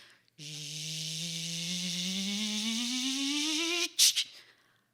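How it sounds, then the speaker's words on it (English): A camera's film rewinding motor whirs steadily for several seconds, its pitch rising gradually, then stops with a couple of brief mechanical clicks; close and alone. "the sound of a film rewinding"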